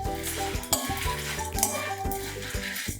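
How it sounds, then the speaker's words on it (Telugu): Cumin, poppy seeds and sesame frying together in a pan for an egg karam, with a steady sizzle, spoon scrapes and stirring clinks throughout, close and moderately loud. "కొంచెం ఇలా దోరగా వేయించుకోండి"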